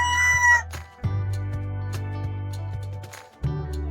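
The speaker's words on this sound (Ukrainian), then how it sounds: "півні люблять співати ще до світанку" A rooster crows nearby, a loud drawn-out call with a sharp start, followed by the beginning of another crow.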